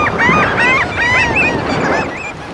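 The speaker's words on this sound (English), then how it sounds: "Gulls gorge on eggs exposed by the waves." Dense flock of gulls and shorebirds calling over a beach, many overlapping honking and squealing cries rising and falling continuously, loud and close, with faint surf and wind beneath.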